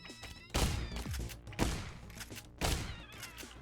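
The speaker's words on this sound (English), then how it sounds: "Kind of wish I didn't use shotguns on that" Shotgun blasts in a video game, three loud booming shots spaced about a second apart, each with a sharp attack and a ringing tail, with no talking.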